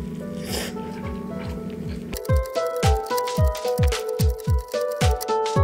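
Close-up biting and chewing of a corn tortilla with sauce, a rapid run of crunchy, wet bites repeating in a steady rhythm after a short stretch of speech, with no other sounds in between.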